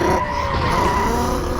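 A Lamborghini car in a driving video game skids with a continuous tire squeal and engine roar for under two seconds, loud and close, without an evident crash impact.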